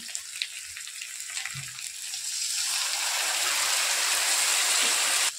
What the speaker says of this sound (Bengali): সামান্য একটু জল দিয়ে মশলা ধোয়া জলটি আমি মাছের মধ্যে দিয়ে দেব